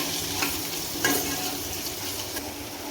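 Okra being stir-fried with turmeric in a pan gives a steady sizzle with soft scraping from stirring, including a couple of louder scrapes, continuous and close with no talking.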